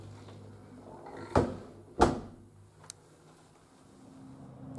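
A heavy door opens into the small Blessed Sacrament Chapel at Mission Santa Ines in Solvang. Two sharp knocks or thuds land close together, followed by a fainter click, over a quiet room.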